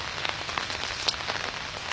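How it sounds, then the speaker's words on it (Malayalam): Light drizzle falling under a mango tree beside a village path, a soft steady patter of raindrops with a few slightly louder drops standing out, nearby and continuous with no talking. "ചെറിയ ചാറ്റൽ മഴയുണ്ട്."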